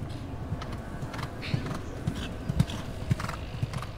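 Horse hooves clip-clop in a steady, even rhythm on a hard surface, moderately close, over a low background murmur.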